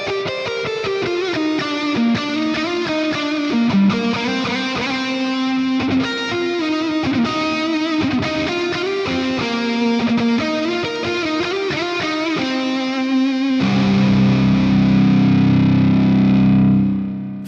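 An electric guitar plays a sustained distorted lead through a Quad Cortex Mega Mark IV amp preset, with dual and analog delay and plate reverb, loud and continuous, ending in a swelling wash of low ringing chords.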